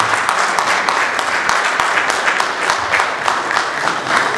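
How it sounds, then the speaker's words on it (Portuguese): Guests at a gala dinner in Kilamba, Angola, clap together in a dense, sustained round of applause, close and fairly loud with no talk over it. "Uma salva de palmas, por favor"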